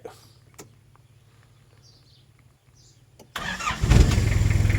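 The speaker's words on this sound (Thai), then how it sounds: "สตาร์ทติดง่ายครับ" A Nissan Big-M pickup's 2.7-litre TD27 diesel engine cranks and catches after a quiet stretch, then idles loudly with a steady low rumble.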